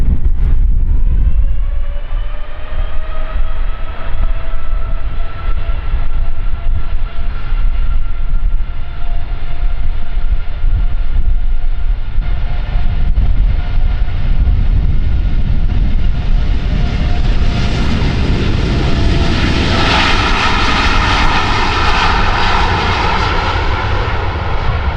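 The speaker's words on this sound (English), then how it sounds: "Let's quickly head to the American Airlines Dreamliner, already spooling up to take off." An American Airlines Boeing 787 Dreamliner spools up its jet engines for takeoff at Amsterdam Schiphol, a loud, steady whine with rising tones that swells into a broad roar toward the end.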